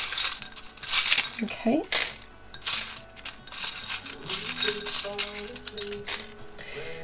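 Letter tiles are pulled out of a bowl during a tarot reading: bright clattering clicks and rattles come in bursts, with a person's voice briefly heard.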